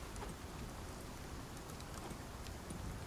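Rain falls in the ICARUS survival game, a soft continuous hiss with scattered light patters of drops, faint and steady throughout, with no voices.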